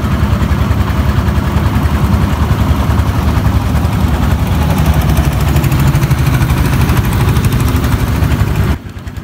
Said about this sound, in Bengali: এই শান্ত পরিবেশের মাঝখান দিয়েই আমাদের শ্যালো নৌকা যখন যাচ্ছিল